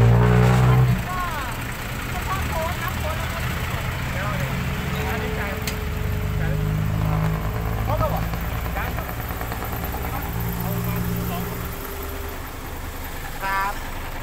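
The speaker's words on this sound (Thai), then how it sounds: "วันนี้รถเยอะครับ" Heavy road traffic rolls past in a steady, loud roar of car engines, broken by occasional higher chirps and faint voices.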